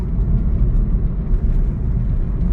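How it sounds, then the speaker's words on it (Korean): A 2017 SsangYong Tivoli cruises at a steady 60 km/h at about 1600 rpm, filling the cabin with a constant, loud low rumble of engine and road noise that stays even throughout, with no talking. "자, 60km로 정속 주행해 보겠습니다"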